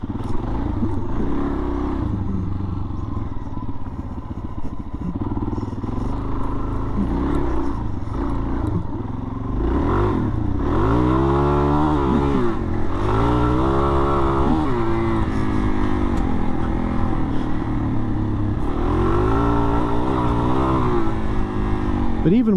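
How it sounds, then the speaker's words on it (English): A 2022 Suzuki DR-Z400S dual-sport motorcycle is ridden, its single-cylinder engine droning steadily with repeated rises and falls in revs as it shifts, heard close with wind rush throughout. "I still have a hell of a lot of fun riding this bike around."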